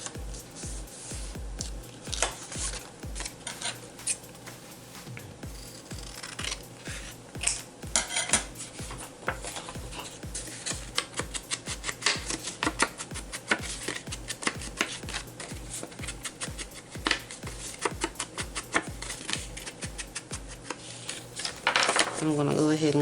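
Scissors snipping scrap paper for a collage journal pocket, a dense run of quick crisp cuts and paper rustles close by, with brief handling clatter and soft speech at moments.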